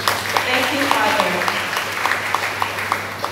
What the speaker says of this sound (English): Let us give Father a round of applause